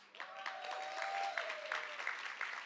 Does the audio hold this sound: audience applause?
yes